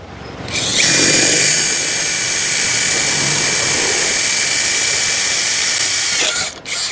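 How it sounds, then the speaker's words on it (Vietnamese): A Yupai 16.8V cordless power tool cuts through thick steel angle iron, giving a loud, steady high-pitched grinding whine that holds for about six seconds before it stops abruptly. "Sắt vê dày cỡ này dứt luôn coi sao nha."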